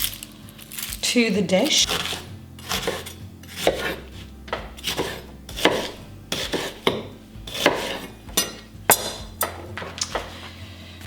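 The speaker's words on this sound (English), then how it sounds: "I'm just going to slice up some onions" A knife slices onions on a cutting board, a steady series of a dozen or so crisp taps and thuds at close range, with someone talking briefly near the start.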